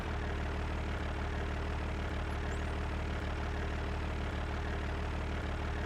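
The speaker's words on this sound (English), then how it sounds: "Engine sounds horrid." Tractor engine idling in the farming video game Cattle and Crops, a steady low mechanical drone with a rough, knocking undertone, continuous and moderately quiet with no talk.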